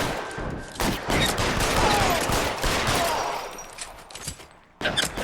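Gunfire in LA Noire: a dense, sustained stretch of rapid shooting that thins out, then breaks briefly and returns, with no talking.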